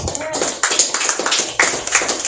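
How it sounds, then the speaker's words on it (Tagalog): Church congregation clapping in praise during a Sunday service, a loud run of rhythmic handclaps close by with a voice talking over it. "Palakpak po sa Panginoon."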